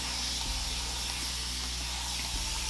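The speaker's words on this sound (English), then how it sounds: "So I'm just gonna spray my hair down some more" A spray bottle mists leave-in conditioner onto thick natural hair in a steady, close, soft hiss lasting a couple of seconds, with faint handling thumps.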